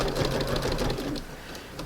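An Elna 7200 sewing machine stitches fabric for porch decor in a steady, rapid mechanical whir, close and continuous, slowing slightly near the end.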